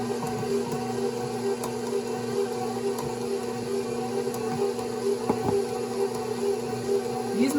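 A stand mixer kneads white bread dough on its lowest speed, a steady close motor whir with faint rhythmic knocks as the dough turns, continuous and alone.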